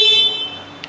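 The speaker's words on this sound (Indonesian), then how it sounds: "Lalu di bawahnya ada klakson." A brief motorcycle horn toot from a Triumph Tiger Sport 660 sounds near the start, a bright tonal blast that fades quickly, followed by quiet vehicle hum and a tiny click.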